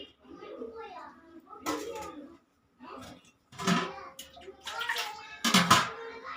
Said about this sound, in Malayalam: കുറച്ച് വെള്ളം ഒഴിക്കുക